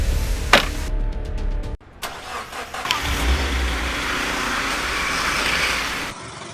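A car engine starts and the car is driven off, with a sharp clunk, a rising rev and then a steady, close engine drone that cuts off abruptly near the end.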